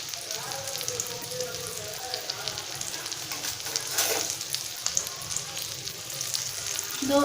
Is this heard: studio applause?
no